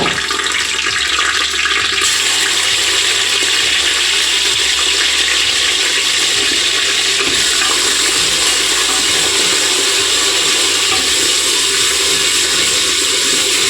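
Ginger garlic paste fries in a pan for a sprouted-bean curry, giving a steady, loud broadband sizzle and hiss that runs unbroken throughout with no talking.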